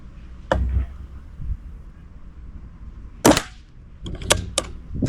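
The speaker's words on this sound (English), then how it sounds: "I'm just shooting for the sake of it now. I want to get my money's worth at the CO2." A CO2 airgun fires at dynamite-style targets: a few sharp, close pops separated by pauses, two alone early and then a quicker cluster of cracks near the end, with no talk over them.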